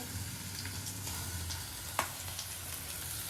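Tomatoes go into browned onions in a frying pan, giving a faint, continuous low sizzle with a single sharp knock near the middle, like a utensil striking the pan.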